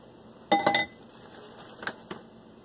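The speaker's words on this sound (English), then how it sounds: "I'm going to take my spoon and kind of spread it out" A spoon clinks and scrapes against a pan while spreading old-fashioned molasses cake batter, a short cluster of bright metallic taps followed by two fainter knocks, close and otherwise quiet.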